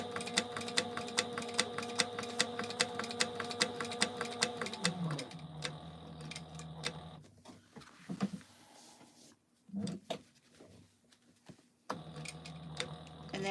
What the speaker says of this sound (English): we're just gonna back stitch this and make it secure